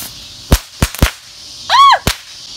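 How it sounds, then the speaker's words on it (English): Fireworks on the 4th of July outdoors: several sharp, loud cracking pops in quick succession, then a rising whistle and one more close bang. "What's a 4th of July without Josh getting hit with a firework?"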